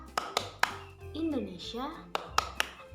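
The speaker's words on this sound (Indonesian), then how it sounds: "tepuk tangan buat kita semua" A group in an Indonesian language class claws out a short cheer with several sharp, separate hand claps at the start and end, broken by a spoken phrase in the middle.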